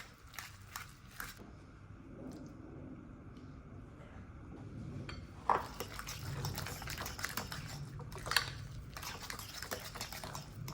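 Mayonnaise and a squeeze of mustard are stirred together in a bowl, producing soft, quiet wet scraping and clicking of a utensil with a few sharper taps along the way.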